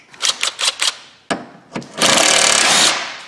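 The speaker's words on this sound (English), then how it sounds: "I gotta go get a power tool of some sort." A power tool removing bolts from a car starts with several short rattling bursts and a sharp click, then runs as one loud sustained whir before cutting off.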